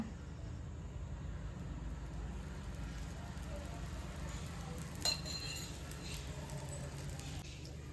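Wheat adai fries in oil on a hot dosa griddle, giving a soft, steady sizzle throughout with one brief clatter midway.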